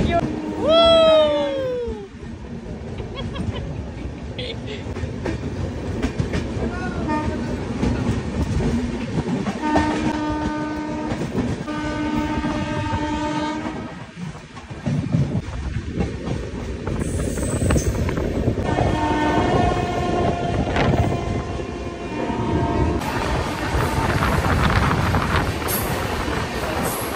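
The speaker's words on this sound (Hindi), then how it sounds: "डिब्रूगढ़ राजधानी आगे की ओर।" The Dibrugarh Rajdhani Express runs along the rails, with steady rumbling, clickety-clack wheel beats and a long horn sounding several times, while a voice talks over the moving train.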